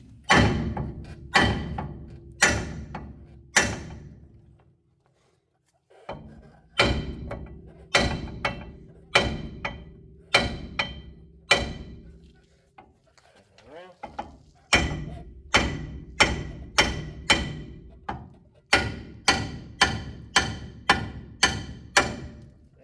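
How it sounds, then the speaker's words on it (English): A hammer strikes the front end parts of a 1978 Chevrolet C10 in bursts of sharp metallic taps, several quick blows at a time separated by short pauses, loud and close, with some faint talking between. "We'll get the bigger hammer this time."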